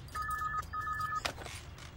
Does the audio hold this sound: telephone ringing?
yes